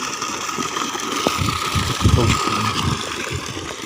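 An electric water pump motor runs steadily on a farm, filling a pit that is about half full. It makes a continuous low mechanical hum and rumble at a moderate, even level.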